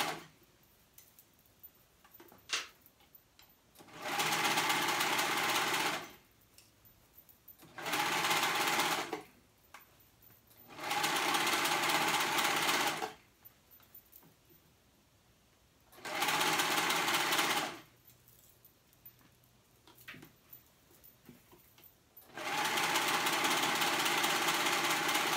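A sewing machine stitches the collar and neckline of a sewn top in five separate loud bursts, each a steady whirring run of a couple of seconds, with quiet gaps between and no talking.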